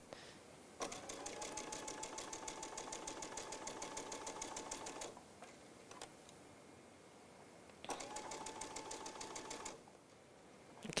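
A sewing machine stitches fabric for a fabric basket in two rapid, even runs of needle clatter, separated by a short pause, fairly close and clear with no talking.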